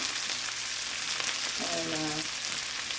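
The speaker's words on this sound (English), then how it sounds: "Olive oil going on here so we can stir fry these vegetables and onions." Celery, green peppers, onions and scallions stir-frying in olive oil, giving a dense, steady, close sizzle that runs through the whole moment, with a brief tonal hum partway through.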